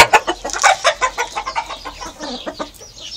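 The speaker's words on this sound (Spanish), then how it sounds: "Está fino el pinche gallo, ¿va?" A rooster clucks close and loud in a quick series of rhythmic calls, a dozen or so sharp clucks in a row, with no talk over it.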